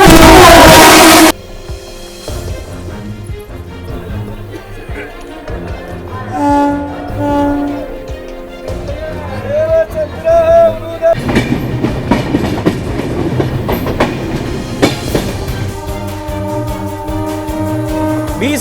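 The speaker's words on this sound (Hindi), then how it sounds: "भाई सब जो सामने दिख रहा है जनशताब्दी गई हावड़ा वाली" A Jan Shatabdi express bound for Howrah passes at about 130 km/h, its carriages clattering in a rhythmic clickety-clack over the rails, loud and close, with horn-like tones and wheel noise rising and falling.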